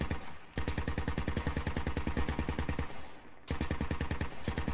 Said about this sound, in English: We got an MG suppressing us.